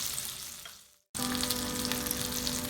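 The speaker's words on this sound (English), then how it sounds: "the fish is frying again in the open" Stuffed pomfret fish sizzles and crackles steadily in a hot open pan, a dense frying hiss that briefly drops out, then returns louder.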